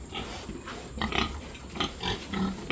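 Pigs grunting and oinking repeatedly in short bursts, fairly close, with some farmyard background noise.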